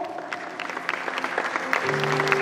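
Parents applaud at a school prize distribution ceremony, a steady patter of many hands clapping, moderately loud and building slightly, with a sustained tone and faint voices underneath.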